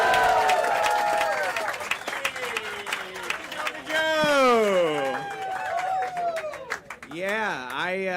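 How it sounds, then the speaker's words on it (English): A comedy club audience claps and cheers for a comedian coming on stage, sustained applause heard beneath a voice speaking over it. "I'm gonna start clapping right now for Parker Uber!"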